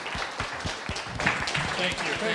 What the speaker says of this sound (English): if you guys can please give me a huge round of applause for